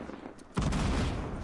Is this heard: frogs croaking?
no